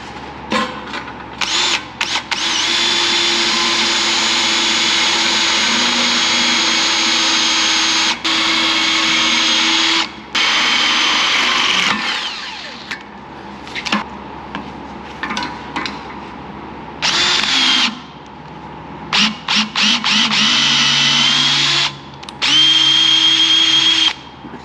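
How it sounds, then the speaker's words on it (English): A handheld power drill drives a tap into metal to cut threads, whirring loudly in long bursts with short pauses and pitch shifts as the motor loads and stops, alone without speech. "You don't like the power tap?"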